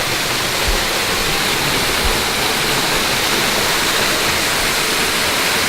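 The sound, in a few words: waterfall in Shawnee National Forest at Dutchman Lake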